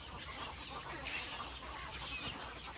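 Birds call faintly near a swamp in the wild. Scattered clucking calls rise from a steady, noisy outdoor background.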